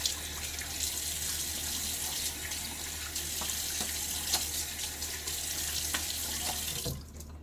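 Tepid hard tap water runs steadily into a sink for shaving, a continuous close splashing stream that stops abruptly near the end.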